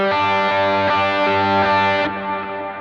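Electric guitar with a distorted, effected tone, a few picked notes ringing into one another, then a softer sustained note to close.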